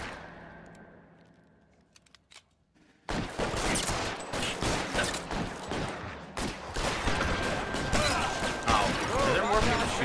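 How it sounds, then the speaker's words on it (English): Gunfire in the video game L.A. Noire, a quiet lead-in that breaks into loud, rapid bursts of shots and cracking impacts repeating steadily to the end, with faint voices underneath. "Why is the other guy shooting at me?"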